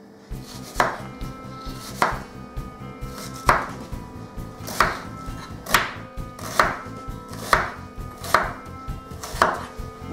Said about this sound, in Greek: πάμε εδώ και τα κόβουμε απλά σε φέτες